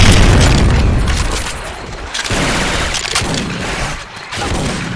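Syphon Filter weapon sound effects modded into Left 4 Dead 2 gameplay: loud, dense bursts of gunfire and booming shots that roll together and fade briefly before resuming, with no speech.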